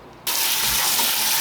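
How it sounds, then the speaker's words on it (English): Tap water starts abruptly and gushes steadily over chickpeas being rinsed, a loud, close, constant splashing rush with no speech. "Let's rinse the chickpeas."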